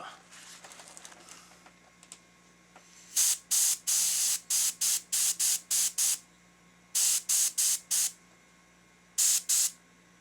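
Airbrush spraying paint onto a bass fish taxidermy mount, close up, in a series of short hissing bursts with brief gaps, some longer, over a quiet background.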